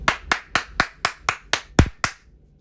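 Eight sharp hand claps at a steady, even pace, loud and close, with no voices.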